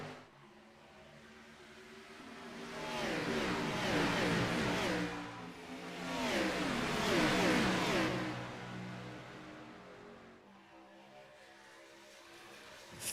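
Race cars in the iRacing video game accelerate at Daytona International Speedway on a restart, with two loud swelling waves of engine roar passing close by over a steady background drone of more engines.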